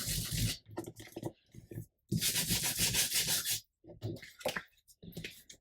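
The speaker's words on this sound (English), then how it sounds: "I'm going to do a bit of sandpaper," Sandpaper rubs along the edges of a paper vintage cabinet card in bursts of close, scratchy strokes, with short pauses between passes.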